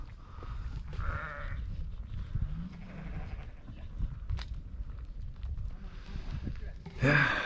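Sheep bleat a few times outdoors over wind and low rumble, with one louder bleat near the end.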